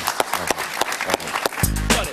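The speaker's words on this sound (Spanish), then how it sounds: "Un aplauso para Javier Larrón." A studio audience applauds Javier Larrón with a burst of close, uneven claps, while a voice talks over it and a low hum rises near the end.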